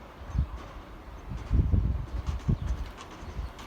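Adana pigeons cooing nearby in low, soft, throaty pulses, a few scattered calls in a short run, fairly quiet.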